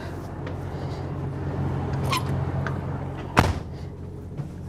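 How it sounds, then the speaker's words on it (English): A door on a 2024 Newmar Dutch Star motorhome is pulled shut, giving a single sharp thud near the end, close by over a steady low interior hum. "let me shut this door"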